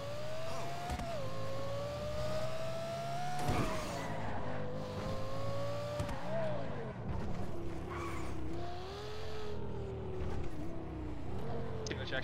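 A stolen car in a GTA roleplay game surges forward under hard acceleration, its engine whine climbing and falling in pitch over about twelve seconds with loud, continuous revving and brief skid noises.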